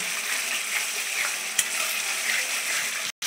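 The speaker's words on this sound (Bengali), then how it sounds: "আমি মশলাটা কতক্ষণ ধরে কষাচ্ছি, আমার তেল ছেড়ে দিয়েছে" Spice paste (masala) sautéing in oil in a pan, a continuous bright sizzle and crackle up close, with one sharp utensil tap midway and a brief cut to silence near the end.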